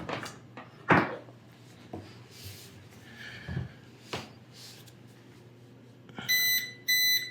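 CyberPower CST1500S sine wave UPS, unplugged to simulate a power failure, gives two short, loud, shrill electronic beep bursts near the end, after a few quiet clunks and handling knocks.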